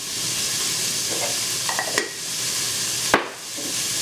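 Onions sizzle steadily in a pan with a pinch of salt, while a utensil stirs them. A couple of light scrapes and clicks of the spoon against the pan rise over the constant frying hiss, with no talking.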